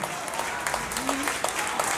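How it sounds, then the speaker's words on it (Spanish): A festival crowd in Los Mochis claps steadily for a performer, a brief burst of dense applause with scattered sharper claps and faint background voices. "Fuerte el aplauso."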